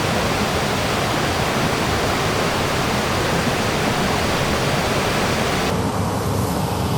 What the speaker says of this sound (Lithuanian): Ir garsas yra krioklio.